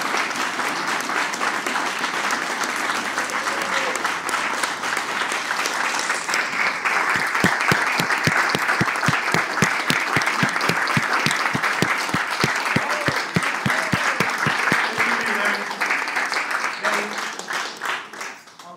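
An audience applauds at a Salinas city council meeting for a local country singer-songwriter, a sustained wash of many hands clapping that builds into rhythmic, unison claps before easing off.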